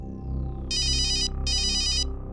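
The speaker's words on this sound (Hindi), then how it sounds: "अरे यार क्या काम का फोन है?" A telephone ringtone plays two bright, rapid trilling bursts separated by a short gap, loud and clear over a low background hum.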